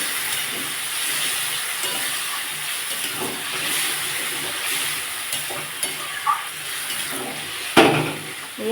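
Ridge gourd sizzles and hisses steadily in a pan with occasional stirring scrapes, then a small splash of water hits it near the end and sets off a sharp burst of hissing.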